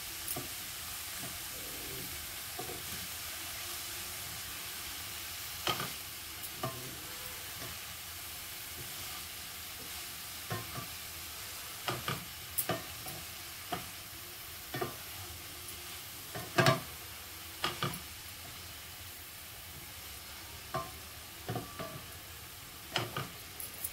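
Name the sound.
cowpea leaf greens stir-fried in oil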